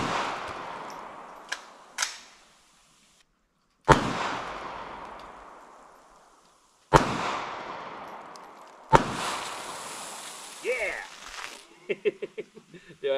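Shots from an AMT Backup pistol burst shaken 2-liter soda bottles outdoors, four sharp loud reports spaced a few seconds apart, each ringing out with a long decaying echo, followed by splashing fizz and clattering debris.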